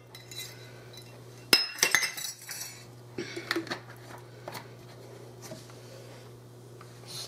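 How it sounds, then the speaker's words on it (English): Ingredients for a cinnamon coffee cake are stirred together in a bowl. Sparse, close clinks and taps of a utensil against the bowl sound over a quiet hum, clustering in two short flurries. "And I'm going to mix all this together."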